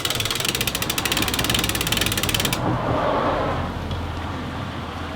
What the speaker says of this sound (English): Use your index finger and your thumb to guide the line on the spool evenly.